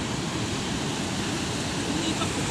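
Strong water rushing through the KRS dam at Brindavan garden, a loud unbroken roar of heavy flow close by with no letup.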